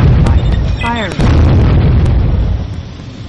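Laser satellite strike in the Warzone 2100 strategy game, a loud booming blast with crackling rumble that fades over a few seconds, with a brief synthetic voice near the start.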